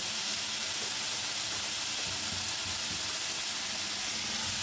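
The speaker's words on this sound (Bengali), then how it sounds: "মশলাটা দিয়ে দিচ্ছি। একটুখানি হলুদ গুঁড়ো, একটুখানি জিরে গুঁড়ো" Turmeric and cumin powder hitting hot oil in a pan of frying sea pomfret, a steady close hiss and sizzle that holds unbroken throughout with no voices.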